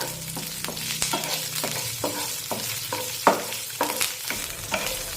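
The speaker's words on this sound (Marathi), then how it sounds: "दोन ते तीन हिरव्या मिरच्यांचे तुकडे टाकूया सात ते आठ लसूण पाकळ्या आणि थोडंसं अद्रक आता हे सुद्धा छानपैकी परतून घेऊया" Green chilli pieces, garlic cloves and a little ginger sauté in hot oil, sizzling steadily while a spoon stirs and scrapes the pan in regular knocks, close and clear without speech.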